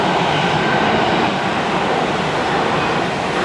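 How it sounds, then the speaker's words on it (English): A commuter train passes close by in Tokyo, a loud continuous rumbling roar with broadband rail noise and faint clatter, sustained evenly throughout with no talk. "first train went by, another one's coming immediately"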